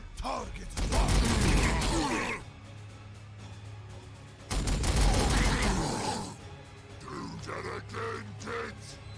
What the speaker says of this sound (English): Let's just have the heavy bolters do some damage here.